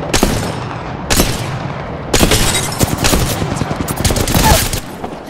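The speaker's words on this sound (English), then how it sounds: "An enemy. Opening fire." Gunfire in the video game Apex Legends: loud bursts of automatic fire and booming shots recur across the scene, with sharp cracks clustered around the second and fourth seconds.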